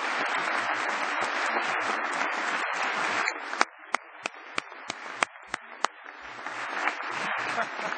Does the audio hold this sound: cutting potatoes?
no